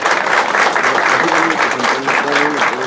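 An audience at a Mexican awards ceremony honouring a broadcasters' association president applauds warmly, a continuous dense round of clapping with a voice or music tone briefly emerging beneath it midway.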